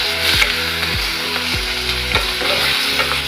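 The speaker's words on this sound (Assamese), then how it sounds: "ইয়াক ভাজি ভাজি পানীটো পূৰা শুকাই দিব লাগিব" Boiled chicken pieces sizzle in a hot pan while being stirred to cook off the water, with a steady frying hiss and rhythmic scraping strokes of the spatula about every half second, close and loud.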